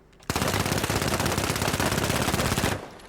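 M11 submachine gun in the shooter game The Finals firing one sustained full-auto burst, a loud, rapid, even stream of shots lasting over two seconds, then cut off abruptly.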